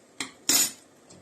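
A couple of quick metallic scrapes and clinks of a spoon stirring honey cake batter with baking soda in a pot, then a faint tap.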